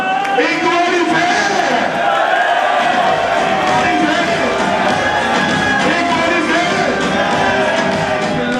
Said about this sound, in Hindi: जोरदार तालियां एक बारी फिर